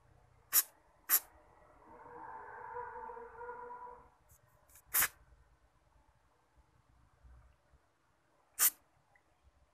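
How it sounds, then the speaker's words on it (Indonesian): Short spray bursts of carburetor cleaner aimed into the holes of a motorbike carburetor: several quick sharp hisses spaced apart, plus one longer softer spray in the middle, close by and with no talk. "Kalian semprotkan yang ada lubangnya, pokoknya kalian semprot supaya lebih bersih."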